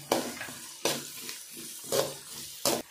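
Vegetables including carrot sizzle in a pan while a utensil stirs and scrapes in four distinct bursts, with a soft crackle between them.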